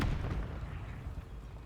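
A grenade goes off in a video game as a single deep, heavy boom that hits hard at the start and rumbles away over a second or so, with no voices.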